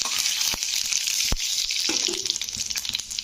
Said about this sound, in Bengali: তো ফোড়নগুলো দেখো লাল লাল করে ভাজা হয়ে গেছে